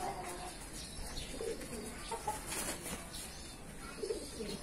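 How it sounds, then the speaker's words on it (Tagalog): Pigeons coo softly in a loft, low repeated throaty calls over a steady background hiss, with faint wing flutters and no clear talk. "Alanganin ibon na yan."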